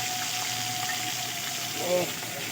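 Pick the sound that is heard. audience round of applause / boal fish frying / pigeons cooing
boal fish frying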